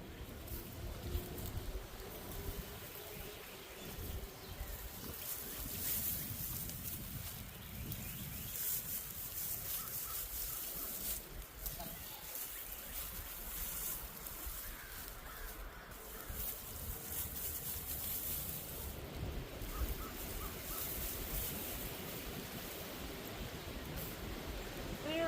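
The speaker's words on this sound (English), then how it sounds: "Wind's starting to pick up." Outdoor wind gusting during garden potato planting, a broad rushing and buffeting noise that persists throughout, with occasional handling rustles and a crow cawing faintly in the distance.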